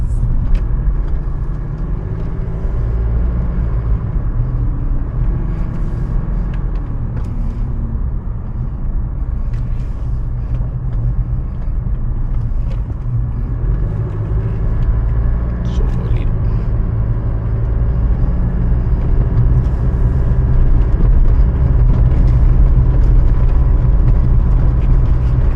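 Chevrolet Trailblazer diesel engine running with a steady, low rumbling drone throughout, close and continuous, while someone talks over it.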